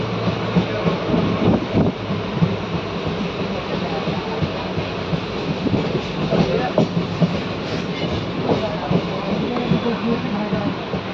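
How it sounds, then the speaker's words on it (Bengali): A passenger train with AC sleeper coaches rolls past close by, a loud steady rumble with rhythmic wheel clatter and wind buffeting on the microphone throughout. "এটা হলো প্যাসেঞ্জার ট্রেন"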